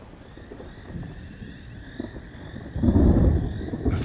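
A thunderstorm rages over the Masai Mara, with a low rumble of thunder swelling near the end over a steady high insect chirr and faint background rustle.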